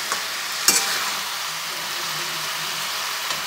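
Vegetables with Malabar spinach seeds stirred in a frying pan over high flame, a continuous close sizzle with a sharp scrape of the spoon near the start and a fainter one at the end.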